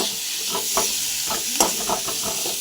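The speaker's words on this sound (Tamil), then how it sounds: "இந்த மாதிரி வதக்கி விட்டுட்டு அதுக்கப்புறம் தக்காளி கொஞ்சம் சேர்த்துக்குங்க" Onions and tomato sautéing in a pan, a continuous sizzle broken by rhythmic scraping strokes of a spoon stirring, close and fairly loud with no talking.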